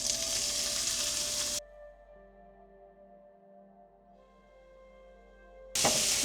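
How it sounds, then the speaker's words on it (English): Paneer fries in oil in a pan with a bright, crackling sizzle. The sizzle drops away to a quiet hum partway through and bursts back loudly at the end, with no talking. "I'm going to fry this piece."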